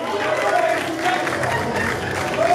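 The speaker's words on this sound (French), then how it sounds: "On peut l'accompagner en applaudissant toujours" Audience applause at a web awards ceremony, steady clapping from a crowd filling the hall, with a voice speaking over it.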